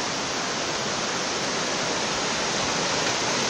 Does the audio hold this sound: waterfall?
yes